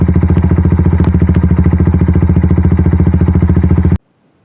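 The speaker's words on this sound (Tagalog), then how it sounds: "Start na natin makina." A Kawasaki Barako motorcycle engine fitted with a digital panel runs loudly and close by, with a steady rapid thumping idle that cuts off abruptly near the end.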